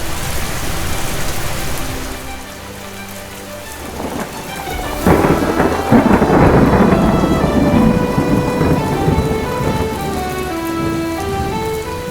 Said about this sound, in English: The first rains touch the soil with their breath of life